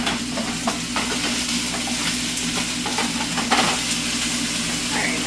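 Onions fry in a pan for a fajita bowl, a steady sizzle and hiss broken by scraping and clacking as they are stirred, with no talk over it.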